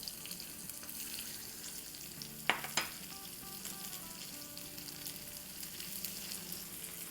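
Whole cumin seeds frying in hot oil while making masoor daal, a continuous close sizzle and crackle with a couple of sharp clinks from a utensil partway through.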